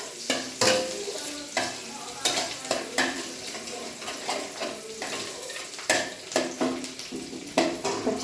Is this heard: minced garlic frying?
yes